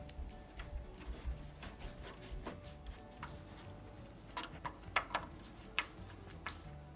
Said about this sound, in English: Now we'll just put our screws in